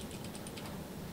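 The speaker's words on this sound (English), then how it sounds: "we can type a little program, verify some basic instructions here" Keys clattering on a replacement Atari XE computer keyboard as a short program is typed, a quick run of light clicks close by under steady background hiss.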